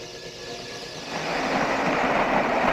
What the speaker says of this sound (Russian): Скоростного вагона путеизмерителя.